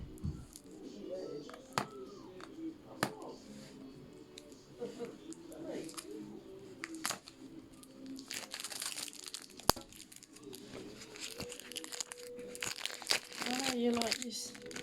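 Plastic and cardboard packaging of a pink AirPods Pro 2 set being torn and crinkled open with teeth, close and intermittent rustling and crunching bursts with a few sharp tears.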